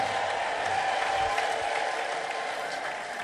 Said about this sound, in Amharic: እስቲ እልልታችሁ ጭብጨባችሁ ይሰማ